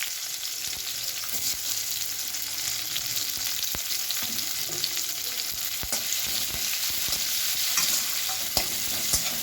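Sliced onions fry in hot oil with a little sugar for a Bengali mutton curry, giving a steady, close sizzle with occasional sharp stirring scrapes and ticks throughout, no voices.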